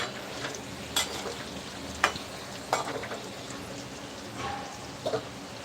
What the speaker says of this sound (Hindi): यहाँ पर हम फ्रेंड्स इसे ढककर फ्राई कर रहे हैं